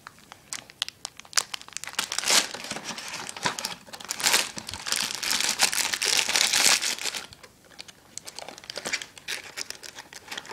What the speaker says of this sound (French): je l'ai déjà ouvert, mais je vais refermer avec du scotch